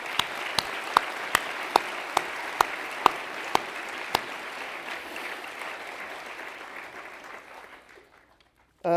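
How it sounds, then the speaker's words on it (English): Applause from an audience at a graduation ceremony, with a few loud, evenly spaced claps standing out over steady clapping from a crowd that slowly fades away. "I think we should give them a huge round of applause as well"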